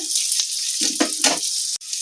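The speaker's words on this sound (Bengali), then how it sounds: "এখন আদা, টমেটো, কাঁচা লঙ্কাটাকে আমি মিডিয়াম আঁচে একটু ভাজা ভাজা করে দেবো" Chopped tomato, ginger and slit green chili fry in oil in a pan over medium heat for a spiced masoor dal, a constant close sizzle broken by a few brief scraping stirs.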